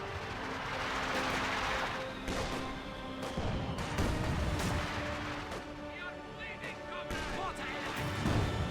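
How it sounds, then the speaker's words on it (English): Mortar shells thump and explode in Company of Heroes 2, Soviet and German forces trading counter-battery fire, with repeated booming impacts and distant gunfire under dense battle noise and in-game voices. "Looks like this mortar may be counter-barraging the 120mm mortar."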